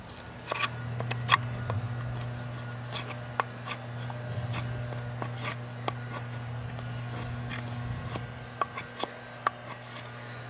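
A Silver Stag Elk Skinner knife blade shaves material in a series of short, dry scraping strokes, fairly close, over a steady low hum with no talking.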